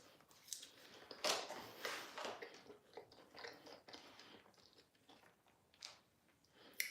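Someone bites into and chews a Nigerian yoghurt puff puff, a fried dough ball, giving close, soft crunching and mouth sounds in irregular bursts with quiet gaps between.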